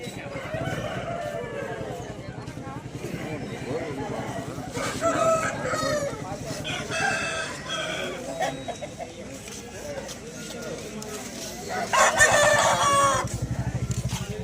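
A rooster crows amid a busy outdoor country chicken market crowd in Vijayawada, with people talking throughout and other fowl clucking nearby.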